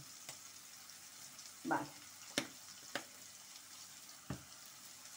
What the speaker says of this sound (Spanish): aquí voy a echar un poquito de ajo picado